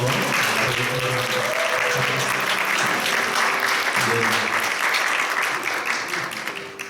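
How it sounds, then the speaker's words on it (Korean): A church congregation at Sunday worship claps in welcome for a deacon, dense sustained applause filling the room, with some voices and background tones underneath before it tapers off at the end. "우리 안나 집사님, 또 환영의 박수 한번."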